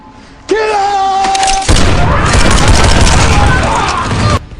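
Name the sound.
explosions and gunfire in an action film clip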